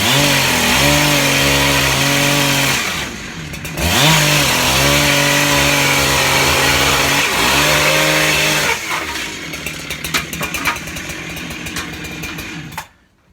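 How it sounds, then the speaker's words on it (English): A chainsaw cuts wood for a maple sugar shack, running loud and close with a steady snarling drone broken by brief dips and re-revs, then rattling down and idling before cutting off. "no fine carpentry happens without a chainsaw"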